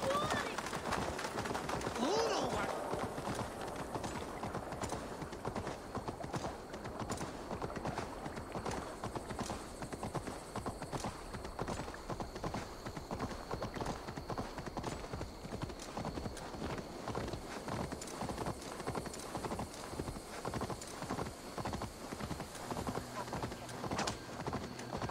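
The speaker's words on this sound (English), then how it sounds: "Stop that horse!" Horse hooves clip-clop at a steady running rhythm, close and continuous, while a horse is ridden across open ground in Assassin's Creed Valhalla, with a brief whinny and background game sounds and voices.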